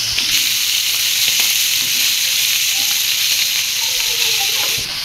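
Chamila fish are shallow-fried in oil and give a bright, continuous sizzling hiss at close range. The sizzle carries a few light spatters and stirring sounds and stays steady until it drops slightly at the end.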